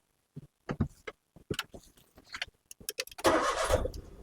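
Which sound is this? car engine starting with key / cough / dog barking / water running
car engine starting with key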